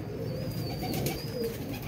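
Newly acquired pigeons cooing in a loft, soft rolling coos close by over a steady background hiss, faint and continuous.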